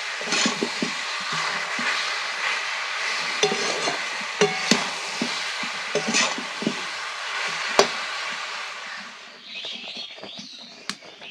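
Jaggery melting in a pan for a sweet-sour mango pickle, stirred with steady scraping and sizzling strokes, close and fairly loud, fading softer near the end.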